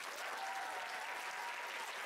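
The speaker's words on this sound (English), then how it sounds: "Come on, give them a hand clap." Junior high students in a school assembly clap together, producing a quiet, even wash of applause that holds steady throughout, heard somewhat distantly.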